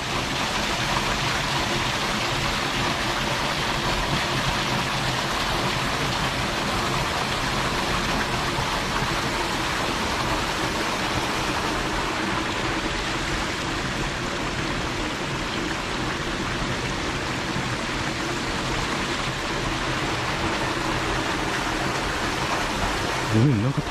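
Waterfall roaring beside a campsite at night at a reputedly haunted spot, a dense, steady rush of falling water that fills the whole clip.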